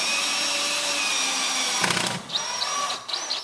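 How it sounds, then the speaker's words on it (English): A power drill whines steadily, then stops and restarts in short bursts as a pocket hole screw is driven into a countersunk hole during wooden frame joint assembly, close and fairly loud. "place a pocket hole screw on the end of the driver and place it right into the countersunk hole"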